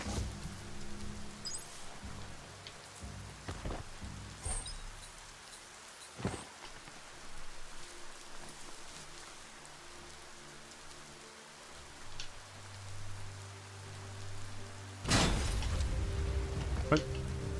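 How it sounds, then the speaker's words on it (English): Rain falls in the video game Biomutant, a steady soft hiss of rainfall throughout with scattered drop taps, occasional sharper impacts and a louder swell near the end, faint and in the background, with a voice speaking over it. "The rain's making it slick out."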